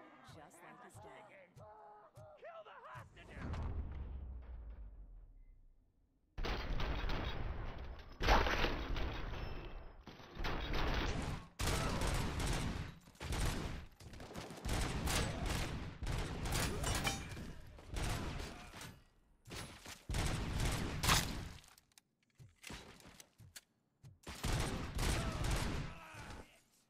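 Gunfire in RoboCop: Rogue City, a quiet lead-in followed by repeated loud bursts of shots in uneven clusters, separated by brief gaps, with yelling and speech mixed in.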